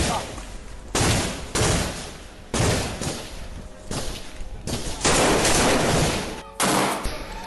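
Gunfire during a Hamas Al-Qassam Brigades attack on Israeli soldiers and vehicles in Rafah, Gaza, with loud bursts of shots cut into abrupt segments separated by brief drops.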